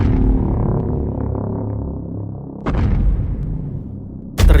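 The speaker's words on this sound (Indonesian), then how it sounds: "mereka berdua dikejutkan dengan suara dentuman langkah kaki." Deep, heavy booms of Godzilla's giant footsteps land one after another with long rumbling decay, loud and close, with no talking.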